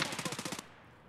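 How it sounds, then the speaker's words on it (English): A rapid burst of about nine video game gunshots fires off to one side, then quickly cuts to quiet. "Shots off to my left"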